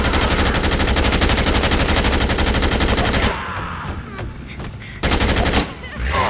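Rapid automatic gunfire from the video game Dead Rising 2 rattles loud and continuous, breaks off into a short lull with scattered shots, then resumes in another dense burst.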